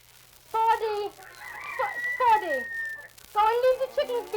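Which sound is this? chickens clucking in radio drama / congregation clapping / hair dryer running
chickens clucking in radio drama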